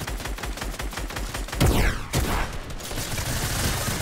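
An SMG fires in a Fortnite match in rapid, loud bursts of gunfire. There is a brief pause midway, then more sustained shooting, all without talk.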